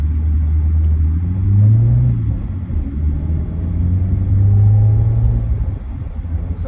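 A Peugeot 3008 120 hp engine rumbles and pulls through two rising acceleration runs, with the pitch climbing, easing off, then climbing again, heard steadily from inside the vehicle.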